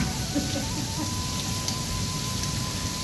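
Steady stormy rain pattering on a balcony, a continuous dense hiss with no talk, close and fairly loud throughout.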